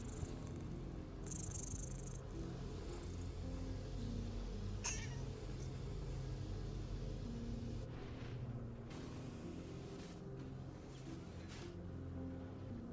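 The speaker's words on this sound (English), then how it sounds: "Don't be alarmed. That is the ship's cat." A ship's cat in the Star Citizen video game meows and purrs over a steady low engine hum inside a spacecraft, with short chirpy cries rising now and then above the background drone.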